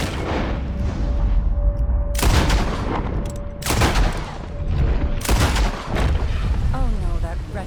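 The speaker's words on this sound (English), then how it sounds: "I'll shoot a few more this time." Several loud, booming gunshots from Red Dead Redemption 2 crack out at irregular intervals during target practice, each followed by a rumbling echo, with a steady tone and faint chirping in the background.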